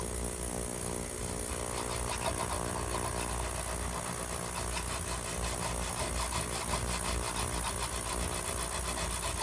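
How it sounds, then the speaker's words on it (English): Metal file worked across the frets of a 1965 VOX Apollo IV bass neck, giving a continuous close rasping scrape with quick repeated strokes and a steady low hum underneath. "it doesn't take long with the file"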